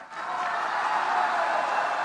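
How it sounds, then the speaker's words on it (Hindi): A crowd at a political rally in Balangir, Odisha, claps steadily, with dense, even applause that holds at moderate loudness for about two seconds. "ये देखो, आपने ताली बजाई"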